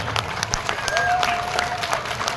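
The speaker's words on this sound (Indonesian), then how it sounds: "Tepuk tangan" Audience applause at a madrasah kindergarten gathering in Lampung Timur, a steady patter of many hands clapping at moderate distance through the whole stretch, with faint voices mixed in.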